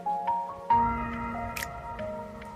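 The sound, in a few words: water bubbling as it boils in a kettle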